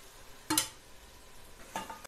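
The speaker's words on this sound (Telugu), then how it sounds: "టమాటా ఉడుకుతుంది." Tomatoes cooking in a pan, with two brief scraping stirs over a faint sizzle.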